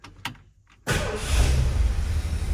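After a couple of faint clicks, a 1979 Ford F150 XLT Ranger pickup's 351 V8 engine cranks and catches, then settles into a steady, deep rumbling idle.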